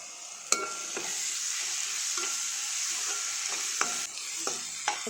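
Grated radish sautéing in a pan for Tamil-style chutney, a steady close sizzle with periodic sharp scrapes and clicks of a spoon stirring, no talking.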